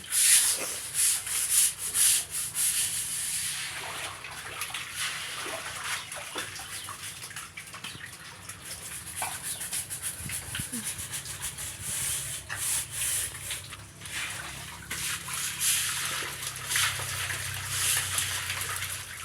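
Catfish tank being scrubbed clean, a steady wet rubbing and scouring with splashy water noise running continuously, close and moderately loud, with no talking.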